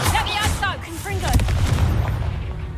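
A Confringo blast spell cast in the game Hogwarts Legacy, a deep booming burst with rumbling low thuds under dense battle noise and magical whooshes, while a voice speaks over the action.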